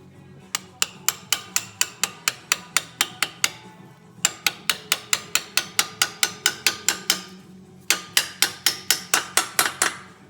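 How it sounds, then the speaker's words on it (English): A Harley 103-to-110 upgrade engine rod being tapped into place: about thirty sharp, bright metallic taps in three quick, evenly spaced runs, close and loud with brief pauses between runs. "I'm going to go ahead and pop the rod into this thing with a few taps."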